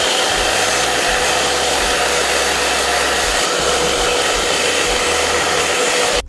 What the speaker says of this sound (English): what I would normally do is just get out my hairdryer